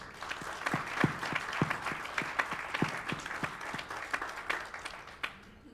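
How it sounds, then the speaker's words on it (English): A meeting audience at an aviators' association's national membership meeting gives a round of applause, heard as fairly quiet, distant clapping with distinct hand claps over a steady crowd patter, fading at the end. "Let's give them all a round of applause."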